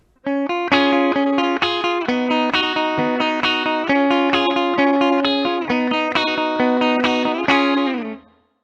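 An electric guitar with effects plays repeating chord arpeggios in a steady rhythm, a Motown-style fill part, bright and sustained, ending with a held chord that fades.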